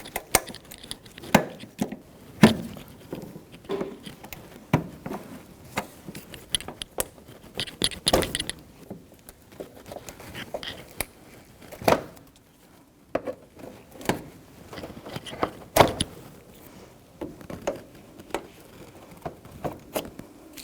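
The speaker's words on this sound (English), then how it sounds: "with my body trim tool, I'm going to pull these plastic pins out" A body trim tool prying plastic pins out of the front shield of a 2007–2017 Jeep Patriot gives scattered sharp clicks and pops, with light rattling and handling noise between them, close by.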